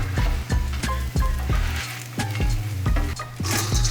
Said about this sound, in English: While that was happening, I let my fries griddle.